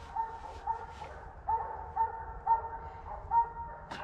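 Coon hunting hounds bay in the night woods, a series of evenly spaced, drawn-out bawls repeating about every half second, distant and moderately faint against a quiet background.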